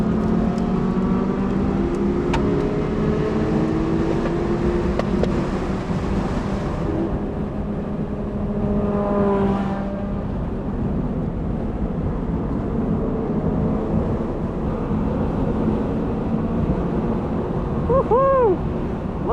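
A Toyota GR86 or Mazda Miata accelerates hard down a track straight, its engine note climbing through the revs, dropping at a gear change and rising again, heard from onboard beneath heavy, constant wind rush.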